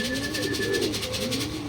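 Racing pigeons coo softly at the loft during a club training flight in Atimonan, Quezon, with a low throaty call rising and falling over a steady background hum.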